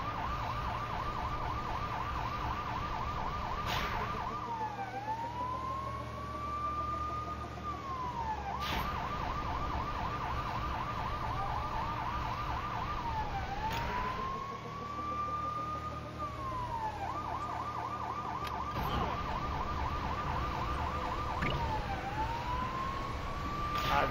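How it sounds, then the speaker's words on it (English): Police car siren in the Lego City Undercover video game wails in repeated rising and falling cycles with fast yelp bursts between, loud and continuous over a low engine hum. "Sirens on."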